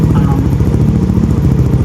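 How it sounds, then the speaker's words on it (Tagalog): A Yamaha Aerox scooter engine runs at a steady, loud idle after an oil change, with an even low throbbing pulse throughout and no talk. "inopen ko na ito at pinaandar ko na ito, mag-circulate na mabuti yung oil sa aking makina"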